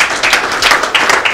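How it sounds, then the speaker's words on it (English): An audience at a health and medical excellence award ceremony bursts into loud, close applause, a dense patter of many hands clapping together. "So please give yourself a very, very big clap for what you are."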